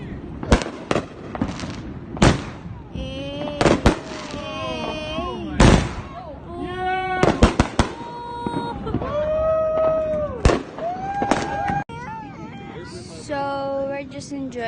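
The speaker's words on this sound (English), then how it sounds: "So we're just enjoying the fireworks for the 4th of July celebration." Fourth of July fireworks bursting in a rapid, irregular series of loud sharp bangs and crackles, with voices chattering and exclaiming throughout.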